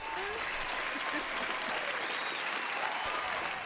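A live audience applauding a guest, a dense, sustained wave of clapping that stays steady and loud throughout, with faint crowd murmur and voices mixed in.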